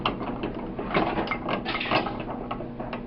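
Samson 6264 machinist's bench vise with swivel base being cranked open, a continuous close rattling, grinding mechanical churn of the screw and jaws with ratchety clicks, no voices.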